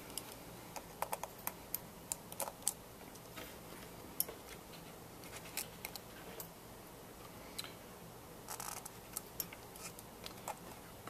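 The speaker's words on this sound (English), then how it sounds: "I'm going to go ahead and remove some more screws holding the logic board in place" Faint, scattered small clicks and ticks from a screwdriver removing screws from the logic board of an iPhone 5 during a repair teardown, close and quiet over a low background hum.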